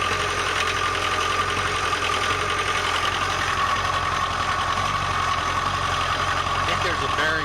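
Steady, loud drone of a Hustler 340 zero-turn mower engine running nearby, with a continuous mechanical rattle and whir from a worn PTO bearing layered over the hum.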